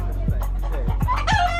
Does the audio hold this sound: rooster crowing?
yes